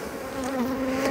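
Honeybees at a coastal apiary in March during swarm-making, a steady, close, droning hum of many wings, loud and unbroken.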